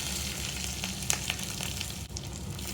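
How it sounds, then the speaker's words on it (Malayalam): Mustard seeds and fenugreek spluttering in two tablespoons of hot ghee for a Kerala Sadhya sambar, giving a steady close sizzle broken by a few sharp pops and crackles, with no talking. "കടുക് പൊട്ടിക്കഴിയുമ്പം ഉലുവ ഇട്ട്"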